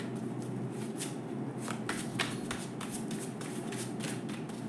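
Tarot cards are shuffled by hand in a steady run of soft riffling and slapping strokes, close and quiet, with no voices.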